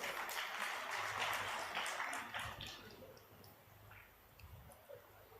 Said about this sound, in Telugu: సంతోషంతో చప్పట్లు కూడా దేవుని మహిమపరచండి.